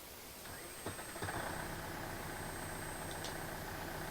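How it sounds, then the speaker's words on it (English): A tractor engine in the Farming Simulator 15 video game idles steadily at moderate volume, with a few faint clicks early on before a constant low drone carries through. "Listen to that tractor."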